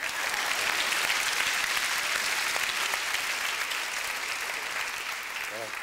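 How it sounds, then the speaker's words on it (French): Sustained, dense applause from an audience at a 1994 comedy gala, loud and steady for the whole stretch, fading slightly toward the end. "Donc, on l'applaudit."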